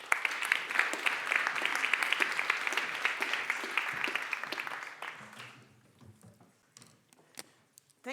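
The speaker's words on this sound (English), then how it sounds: "Can I have a warm applause?" Warm audience applause fills a L'Oréal-UNESCO For Women in Science award ceremony hall, steady and full for about five seconds before thinning out to a few scattered claps and quiet room noise.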